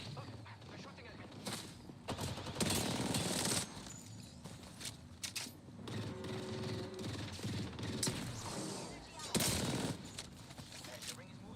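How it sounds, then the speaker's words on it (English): Gunfire in a battle royale video game, with repeated bursts of automatic shots and mechanical clicks scattered throughout, moderately loud amid game sounds with intermittent talking. "They're shooting at me."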